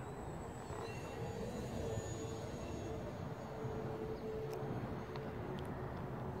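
Electric motor of a GWS Slow Stick RC airplane under throttle at an RC flying field, a steady faint whine over a continuous broadband rumble of outdoor noise.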